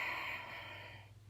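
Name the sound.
exaggerated big belly breathing demonstration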